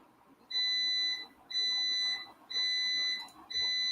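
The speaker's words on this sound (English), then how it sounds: "I have no idea what that beeping is, but my coffee pot." A coffee pot signals it is ready with four loud, evenly spaced electronic beeps, each about a second long, over faint background noise.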